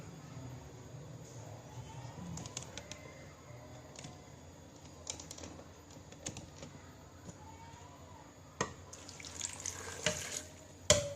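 Water is poured into a container while preparing an apple remedy for gallstones, amid scattered kitchen clicks and knocks, with the splashing pour growing louder toward the end.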